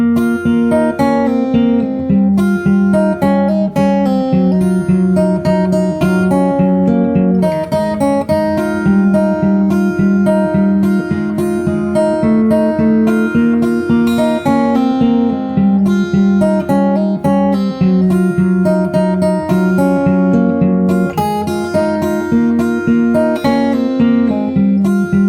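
Solo fingerstyle guitar carries the verse of a song, a continuous stream of plucked notes and bass at a steady moderate pace, close and clear with no voice.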